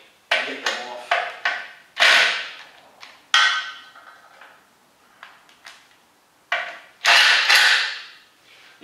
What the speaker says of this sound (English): Yeah, let's just break these lights off.